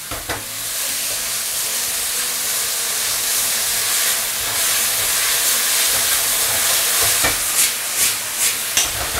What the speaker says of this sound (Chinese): 不要小火，最大的火去炒它。